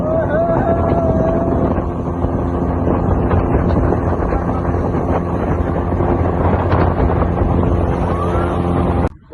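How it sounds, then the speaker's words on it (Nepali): Boat ride on water, with a continuous loud engine drone and heavy wind buffeting the microphone throughout, cutting off abruptly at the end. "अब बोटिङ गरेर घर जानु पर्यो।"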